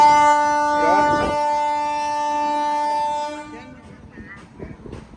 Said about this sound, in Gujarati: ફાટક બંધ હશે પાછું કેમ કે ટ્રેન આવી